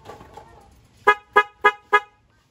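Four short, loud blasts from a car alarm's dual horn in steady succession, each a bright two-tone honk, following a quieter stretch of faint sound.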